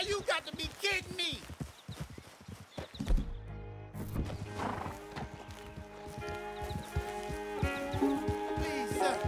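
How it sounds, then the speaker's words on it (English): Horse hooves clip-clopping at a gallop, followed by loud neighs and whinnies from a horse in Red Dead Redemption 2, heard alongside game sounds and a voice. "Please, sir, can you help me get my horse back? She bolted on me."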